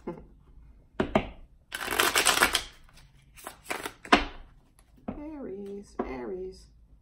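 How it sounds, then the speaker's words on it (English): Tarot cards are shuffled up close in two brisk riffling bursts with a few taps of the deck between them, and a voice speaks briefly near the end. "Okay, 2 shuffles and we're there"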